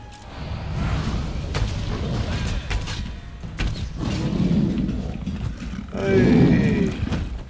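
A River Troll in Elder Scrolls Online lets out deep, growling roars, loud and close, rising in bursts with a big final roar near the end amid creaking game sounds.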